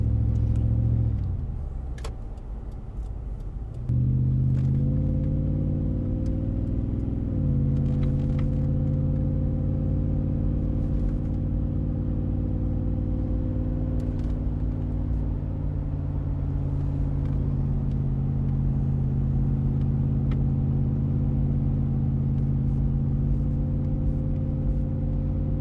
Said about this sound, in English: then you can see how loud it is on hills